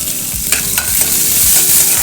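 Curry leaves and garlic hit hot oil, a loud, dense, close sizzle that swells and holds, with faint clinks of a utensil early on.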